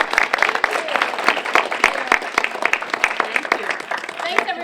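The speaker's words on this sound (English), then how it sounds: "Let's give Kim a big round of applause." A room full of people claps warmly for a speaker after her talk, a brisk, close mix of individual hand claps blending into steady applause, with a few voices mixed in.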